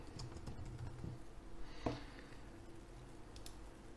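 Laptop keyboard typing, a Lenovo Legion 5, heard as a quick run of soft, close clicks with one sharper keystroke near the middle, over a steady background hum.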